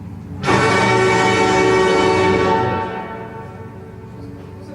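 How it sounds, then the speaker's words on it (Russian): A large bell is struck once, loud and close, its rich metallic tone ringing out and slowly fading away. "колокол бьют"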